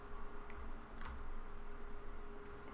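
Computer keyboard keys pressed during digital painting in Blitpaint, a few light taps at close range over a steady low hum, no talking.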